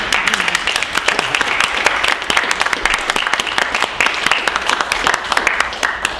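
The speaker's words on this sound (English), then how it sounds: "that was a kind of weak applause. I think he deserves a lot more." Audience applause at a radio station town hall meeting, a dense, steady patter of many hands clapping for about six seconds, fairly loud and continuous with a few voices mixed in.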